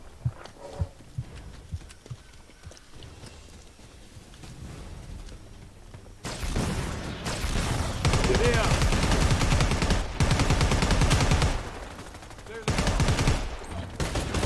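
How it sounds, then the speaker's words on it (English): A plasma pistol firing in the video game Predator: Hunting Grounds, with loud sustained volleys of rapid shots that set in after a quieter stretch, break off briefly, then resume, mixed with game noise and voices. "here's Alder with the plasma pistol."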